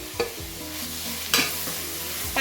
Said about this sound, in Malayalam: അപ്പം അത് ഇതിലേക്ക് ഇട്ടിട്ട് വഴറ്റി കൊടുക്കാം